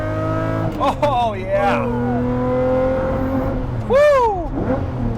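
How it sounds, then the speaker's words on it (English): Lamborghini Murcielago V12 engine accelerating on the road, loud and close, with rising revs and gear changes, a sharp surging rev near the end, while a driver briefly exclaims over it. "All right, driving the Murcielago."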